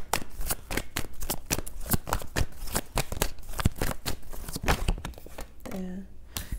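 Tarot cards shuffled and riffled from a deck at close range, a fast run of crisp flicks and slaps with a speaking voice partly under it and a short hum near the end.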